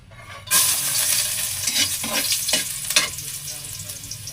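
Garlic hits hot oil in a pan with a sudden loud sizzle that settles into a steady close crackle, broken by a few scraping stirs.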